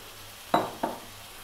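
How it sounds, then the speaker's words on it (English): Stock poured into a hot pan of cooked flour roux gives two quick sharp sizzling bursts, the second weaker, over faint background hiss, close by. "Let's get our stock and add a little bit in."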